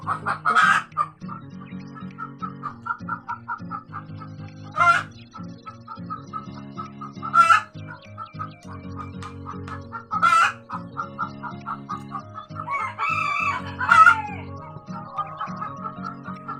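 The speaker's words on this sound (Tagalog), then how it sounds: "Ayan ang manok." Hens cluck repeatedly in a busy flock while a rooster crows several times at intervals, loud and close.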